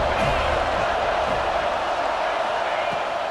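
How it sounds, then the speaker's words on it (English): Stadium crowd in EA Sports College Football 26 roars as a dense, steady wash of noise beneath a commentator's voice. "This crowd going to try to make life miserable for these guys."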